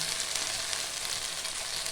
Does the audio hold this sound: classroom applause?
no